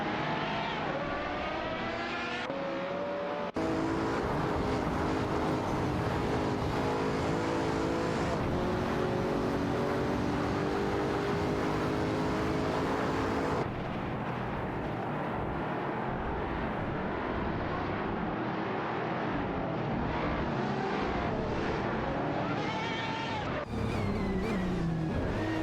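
Pagani Huayra BC race cars roar continuously in a racing video game, engine tones rising and shifting as several cars compete closely, loud and sustained with abrupt cuts between camera views.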